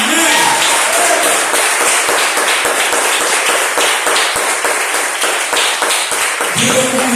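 Church congregation clapping during a service, a loud, dense, continuous burst of applause with individual sharp claps throughout, voices briefly audible at the start and end.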